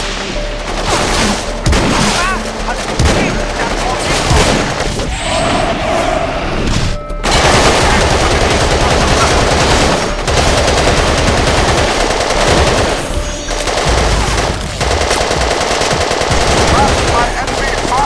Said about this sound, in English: We're taking heavy fire from all flanks!